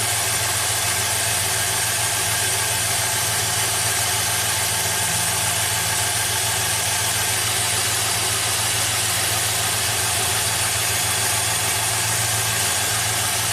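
A Pontiac GTO V8 idles with a steady, loud, close rumble and a slightly uneven pulse while one cylinder is cut during a cylinder contribution test for a misfire.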